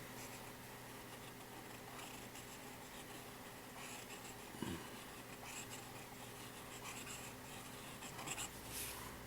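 A Platignum No. 5 Studio fountain pen with a lightly flexible, traditional-style nib writes on paper, giving a faint, steady scratching that runs quietly through the whole stretch.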